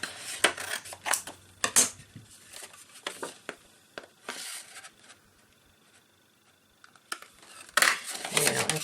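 Scissors cutting paper for a craft project, a series of irregular crisp snips and rustles with paper handling noises between them, close and intermittent, pausing for a quiet spell near the middle before resuming.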